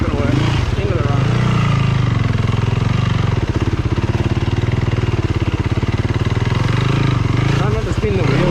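A KTM motorcycle engine drones steadily and loudly up close as it rides through a flooded forest after floods, with a rider talking over the continuous engine noise.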